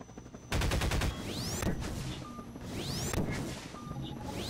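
Gunfire in the video game Garry's Mod during a firefight with a helicopter: rapid bursts of gunshots begin abruptly and continue as dense, fairly loud rattling volleys, with ricochet-like whines and short electronic beeps mixed in.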